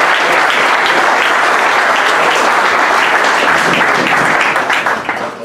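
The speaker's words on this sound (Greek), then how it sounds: "Ένα χειροκρότημα θα ήθελα." Audience applause at an arm wrestling event sustains loud and dense throughout, a broad wash of many hands clapping together with no break, easing slightly only at the very end.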